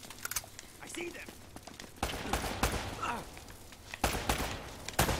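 Scattered bursts of video game gunfire from Uncharted, several sharp shots in quick clusters, fairly faint under a player talking throughout.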